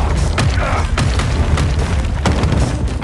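A volley of gunfire in a strategy card video game: loud, dense booming and thudding that runs continuously, with a few sharper cracks standing out.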